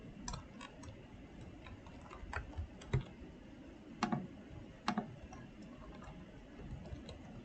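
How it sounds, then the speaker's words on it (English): Quiet typing on a computer keyboard while entering account information: scattered soft key clicks in irregular bursts over a low background hum. "You will now type in your D3Tool.com account information."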